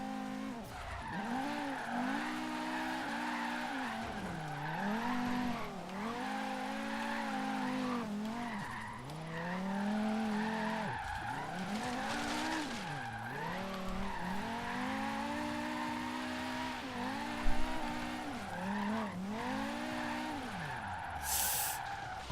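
A Volvo 850 R drifts in Forza Horizon 3, its engine droning and swooping up and down in pitch through repeated slides while the tires squeal almost continuously, loud and up close, with a brief knock near the end.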